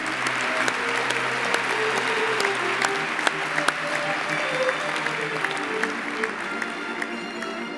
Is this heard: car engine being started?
no